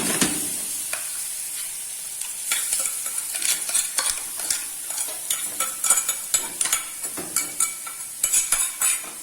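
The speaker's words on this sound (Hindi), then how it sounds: "मैंने सारी चटनी को डालकर अच्छे से हिला लिया है।" Wood apple chutney fries in hot oil in a pan, hissing steadily while a metal spoon stirs it with quick, close scrapes and clinks that grow sharper and more rhythmic toward the end.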